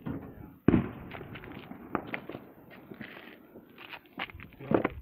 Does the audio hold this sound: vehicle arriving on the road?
no